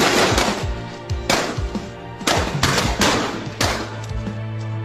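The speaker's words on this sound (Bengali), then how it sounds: "ঢাকার ধানমন্ডিতে 677 নম্বর ঘরে হঠাৎ গুলির শব্দ শোনা যায়" Bursts of rapid gunfire crack out in loud, dense volleys, several separate rounds of shots repeating across the span with short gaps between them, close and harsh with no voices.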